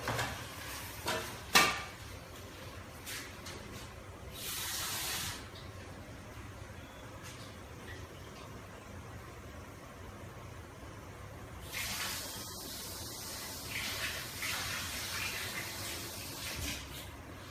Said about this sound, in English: So I'm gonna wash it clean like I said. So it has to be really washed.